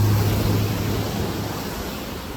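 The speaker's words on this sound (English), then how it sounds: "Framed right, it almost looks like a real waterfall if you didn't know it was just a little small runoff coming into the sea" A small runoff stream spilling like a little waterfall into the Caribbean sea on an Isla Colón beach, a loud, steady rushing wash close by with no voices.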